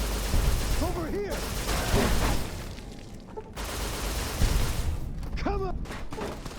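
Gunfire rattles in bursts during a firefight in the video game Fallout: New Vegas, with loud close shots and booms while voices shout over the shooting.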